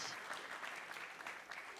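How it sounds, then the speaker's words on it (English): Audience applause at a children's event, a steady wash of clapping from a crowd throughout, moderately distant and even. "let's clap for you and each other"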